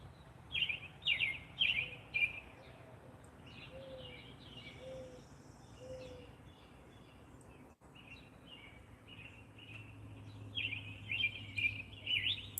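Birds sing outdoors in short bright bursts of chirps and trills, some near and some farther off, over a faint low hum, with a quieter stretch midway before the calls pick up again.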